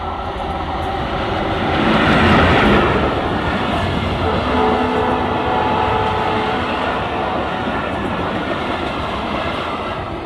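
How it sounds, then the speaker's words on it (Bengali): A Mongla-bound train running through Arongghata railway station without stopping, a loud, close, continuous rumble of wheels and carriages swelling as it passes and then holding steady for several seconds. "দেখুন রেল কিন্তু চলে এসেছে, এখানে দাঁড়ায় না"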